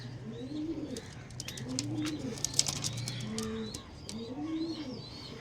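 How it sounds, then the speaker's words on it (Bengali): Several female pigeons coo in a repeated rolling rhythm, close by, with chirps and a steady low hum in the background. "তিনখানা মাদি পায়রা"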